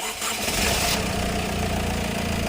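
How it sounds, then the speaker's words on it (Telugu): A Honda BR-V seven-seater diesel car engine cranks briefly and catches, then settles into a loud, steady, close-up idle with a low rumbling clatter. "ఇంజిన్ ఒకసారి స్టార్ట్ చేస్తున్నాను సౌండ్ ఎలా ఉన్నదో ఏంటన్నది చూద్దామండి"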